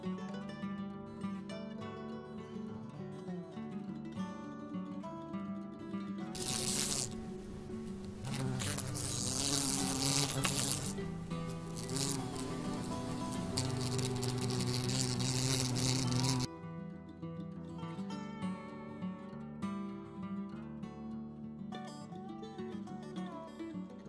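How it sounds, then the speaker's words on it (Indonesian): A wasp buzzing close up with a steady droning whine, swelling into a louder, harsher passage in the middle before settling back to a thinner hum; no talking. "Ini tawon. Serangga yang suka menyengat apabila merasa terganggu."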